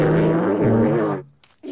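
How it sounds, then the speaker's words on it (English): A recorder played badly in a children's cartoon: a wobbly, harsh, honking tone held for over a second, then breaking off into near silence before another short note begins. "Until I'm good at playing the recorder."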